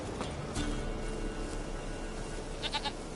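In The Witcher 3, a goat bleats faintly a few times near the end over a steady, low outdoor ambience.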